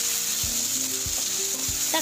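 Tomatoes frying in oil for a Kerala-style prawn curry with fenugreek seeds, a steady close sizzle broken by several dull scrapes and knocks of stirring against the pan.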